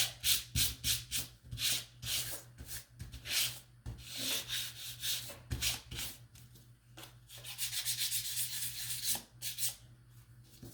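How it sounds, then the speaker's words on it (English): Gentle hand sanding of a wooden sign piece, with repeated short rubbing strokes in steady bursts, close and fairly quiet, alone without talk. "just a very gentle sand"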